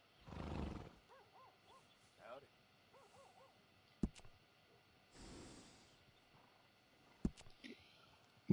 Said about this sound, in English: Mi caballo